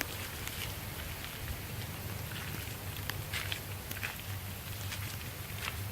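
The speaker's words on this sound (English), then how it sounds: "it's raining out here" Steady rain patters on a 2003 Chevrolet Avalanche Z71 pickup, a dense, even hiss with scattered brighter drop hits over a low rumble, constant throughout with no talk.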